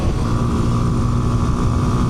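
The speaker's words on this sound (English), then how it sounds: "I kind of appreciate the little gutsy sound from the engine on this one." Kawasaki KLX230 dual sport motorcycle engine growling steadily in third gear while accelerating through a corner on the road, a continuous loud rumble with wind noise throughout.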